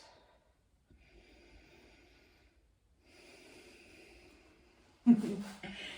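Slow, deep breaths taken while holding a yoga posture on the floor, two soft, drawn-out breaths near the microphone, then a sharper, louder exhale at the end.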